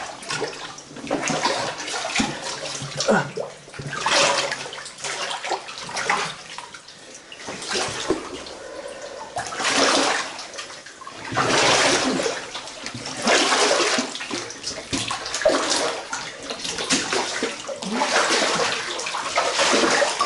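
Water pours and splashes heavily inside an underground tunnel, a loud continuous rushing that swells and falls in waves.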